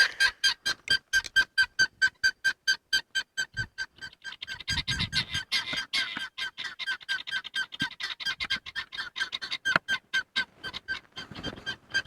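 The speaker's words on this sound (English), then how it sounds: "Guineas are freaking out." Guinea fowl calling in alarm, a rapid series of loud, harsh, rhythmic squawks repeating steadily, close by, with some clattering in the middle stretch.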